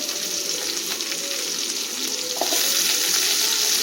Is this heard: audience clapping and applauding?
no